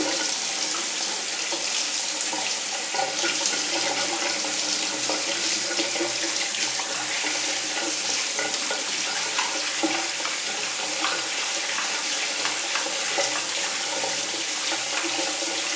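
Dishes scrubbed with a small brush at a kitchen sink, a continuous wet swishing and rubbing close by, with splashing water running throughout at a steady level.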